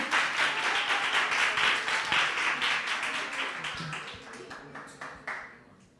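Audience at a Christmas Eve church gathering breaks into applause, a dense, sustained burst of many hands clapping close by that gradually thins and fades out toward the end, with a brief louder clap near the close.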